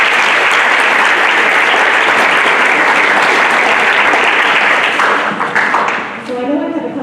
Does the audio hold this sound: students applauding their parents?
yes